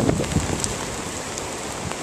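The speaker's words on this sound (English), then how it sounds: "Raindrops are falling from the sky." Rain falls during Hurricane Sandy as a steady close hiss of drops with brief gusty bursts at the start, then settles into even wet noise.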